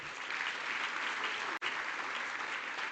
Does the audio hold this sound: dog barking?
no